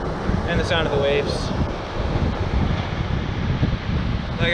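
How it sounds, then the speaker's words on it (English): Ocean waves wash and rumble continuously at a beach under strong wind buffeting the microphone, with a person speaking over the surf. "At least you can hear my voice and the sound of the waves."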